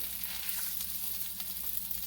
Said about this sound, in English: lay it down in the pan, audible sizzle here